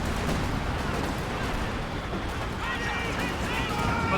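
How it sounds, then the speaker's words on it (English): Artillery and mortar barrage in Company of Heroes 2, a steady rumble of distant blasts and gunfire with a caster talking over it throughout. "Artillery flare mortar columns on in and is concentrated barrage."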